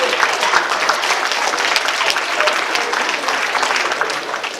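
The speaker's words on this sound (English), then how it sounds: "Now give yourselves a round of applause." Banquet guests at an all-star event give a round of applause, a dense, steady wash of many hands clapping close by that holds at an even level throughout with no speech over it.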